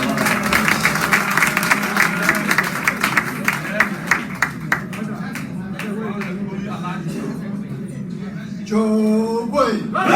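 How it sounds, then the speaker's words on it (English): Applause at a press conference on police harassment of a party national chairman, a burst of clapping from the gathered crowd, close and fairly loud, mixed with voices and chatter, ending in shouted chanting. "Let's give him a round of applause."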